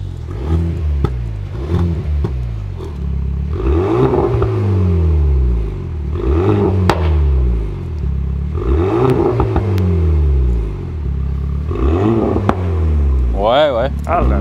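A Renault Megane RS engine revs repeatedly, its pitch climbing and falling in several surges with mechanical whir, while people talk nearby between and over the revs.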